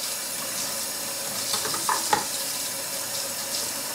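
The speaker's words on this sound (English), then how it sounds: "Take some hot water," Hot water from a tap runs steadily over computer RAM modules being rinsed clean, a continuous close splashing hiss with a few brighter spatters midway.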